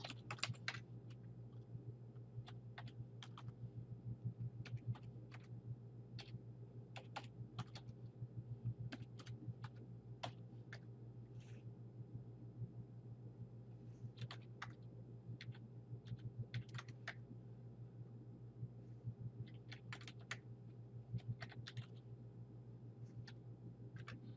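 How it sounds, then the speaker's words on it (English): Typing on a computer keyboard while entering credit card payment information, a steady run of light key clicks at close range over a constant low hum, with no voices. "Go ahead and type in the information."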